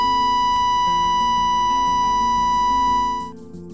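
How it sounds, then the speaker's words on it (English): An offshore platform abandonment alarm: a continuous, unbroken tone holds steadily for about three seconds over a low rumbling background, then fades away. "The abandonment alarm sounds like this."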